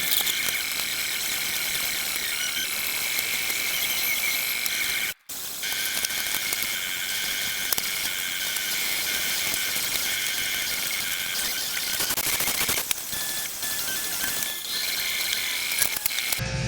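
Ratchet wrench clicking steadily as valve cover bolts come off a 2012 Chevrolet Malibu engine with a suspected timing chain fault, continuous close ratcheting broken by one short pause, alone without talk.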